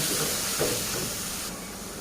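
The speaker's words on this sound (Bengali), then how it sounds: "আমি এবার মশলাটা ভালো করে ভেজে নেব।" Cumin, coriander, bay leaf, chili and turmeric powders fry in hot oil for a pigeon curry, giving a steady, close sizzling hiss with no break or talk.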